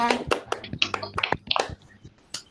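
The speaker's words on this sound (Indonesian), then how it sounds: "tepuk tangan untuk kita semuanya" Scattered, uneven hand claps from a class of students in an online lesson, irregular patters and taps overlapping at moderate volume before trailing off into near silence.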